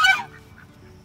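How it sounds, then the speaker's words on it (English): A goose gives a single loud, close honk beside a fishing pond, a brief nasal blast that quickly fades into quiet outdoor ambience. "We don't want to throw anymore because the geese are coming back."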